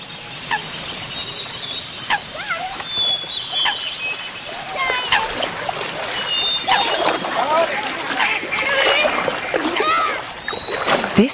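Kayak paddles splash and water churns while paddling down the River Dee in North Wales, with birdsong and occasional voices in the background, moderately close and continuous.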